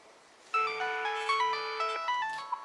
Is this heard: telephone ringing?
yes